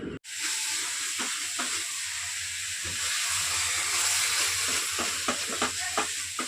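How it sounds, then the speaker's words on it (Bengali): Vegetables frying in hot oil give a loud, continuous hissing sizzle heard up close, broken by scattered soft pops and occasional spatula taps, with no voices. "এই সবজিটা আমি তেলে ভাজি ভাজলে তেল বেরোবে"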